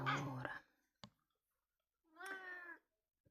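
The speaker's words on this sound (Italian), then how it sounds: "la gatta commenta" A cat meows twice indoors, a short call followed after a pause by a longer, rising-and-falling meow, close and clear with a faint click between.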